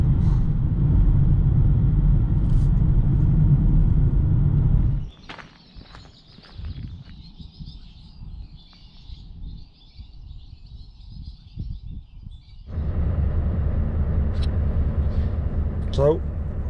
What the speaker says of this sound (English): This is just me, part of me commute to work in the van.